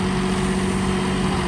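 A New Holland 5620 CRDI tractor, 65 HP, running its diesel engine in second low gear in power mode: a steady, loud, continuous engine drone with a constant low hum, heard alone.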